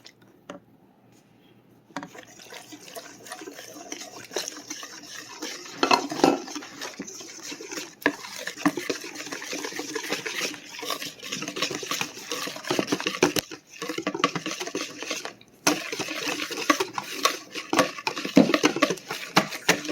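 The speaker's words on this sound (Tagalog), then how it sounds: "So you have to whisk well." A whisk scrapes and clicks against a bowl while a beaten egg is worked into dry funnel cake batter ingredients, a quiet, busy, uneven rattle that runs nearly twenty seconds after a brief silent start.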